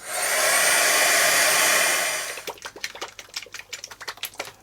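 A strong, steady blast of blowing air roars for a couple of seconds to dry pen ink on an art journal page, then cuts off, followed by quiet clicking and tapping sounds.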